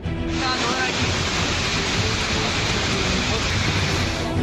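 Heavy rain and rushing floodwater in Jaipur, a dense, loud, unbroken roar of pouring and churning water filling the whole scene, with a voice faintly audible under it.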